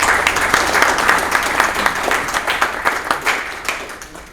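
Audience applause at a Rotary Club gathering, lively clapping from a room of people, loud at first and tapering into scattered claps toward the end.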